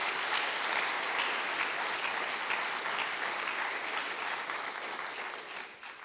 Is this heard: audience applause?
yes